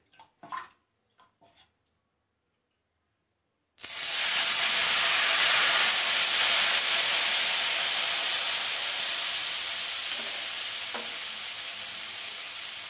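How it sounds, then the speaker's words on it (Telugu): Rice-flour dosa batter hits oil on a hot pan after a few faint clinks, bursting into a loud, steady close-up sizzle that gradually softens over several seconds. "ఇప్పుడు ఇంకో దోశకి ఇదే విధంగా నూనె వేసేసుకొని దోశ వేసేద్దాము"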